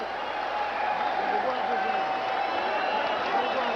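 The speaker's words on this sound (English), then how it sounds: "Crowd here in Phoenix on Easter Sunday standing on its feet and applauding in appreciation of one of the great rounds we've seen this year." Boxing crowd at a Phoenix fight on Easter Sunday, on its feet and applauding between rounds: a steady, dense wash of clapping and cheering throughout, with no one speaking close by.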